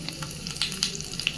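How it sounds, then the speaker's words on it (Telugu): Mustard seeds, cumin and dried red chillies crackling in hot oil in a steel pot for a tempering, a soft close sizzle broken by a few sharp pops, brief and without voices. "ఇక్కడ గిన్నెలో ఆయిల్ వేసుకున్న, ఆవాలు జీలకర్ర వేసేసుకొని ఎండుమిర్చి వేసుకుందాం."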